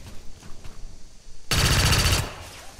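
Gunshots in XCOM 2, a short burst of rapid automatic fire lasting about a second, loud and sharp after a quieter stretch of faint game sounds, with no talk.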